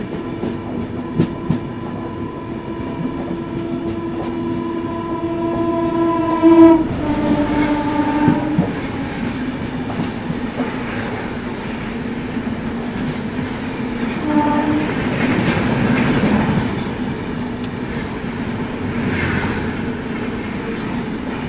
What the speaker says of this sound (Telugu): చూసినారా? ట్రైన్ కూడా వెళ్ళిపోయింది.